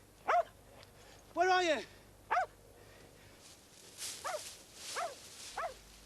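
A dog barks in short sharp bursts outdoors among bracken, with one longer bark and later fainter yips. A person calls out between the barks.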